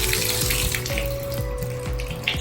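Water runs from the tap into a bathtub being cleaned of hard water soap scum, a loud and steady close splashing with no voices.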